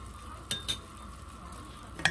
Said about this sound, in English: shake it a little bit or stir a little bit